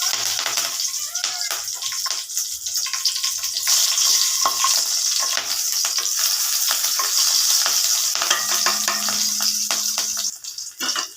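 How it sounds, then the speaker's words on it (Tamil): Green chillies fry in hot oil in a pan for a brinjal curry, giving a loud continuous crackling sizzle with stirring clatter and a short humming tone late on, close by and without speech. "நம்ம அதே ஆயிலில் பச்சை மிளகா சேர்த்துக்கலாங்க."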